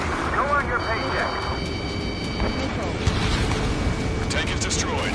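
A tank blowing up in the Ace Combat 7 air-combat game, a loud sustained roaring rumble of explosion and engine noise that fills the whole stretch, with a brief sharper burst near the middle.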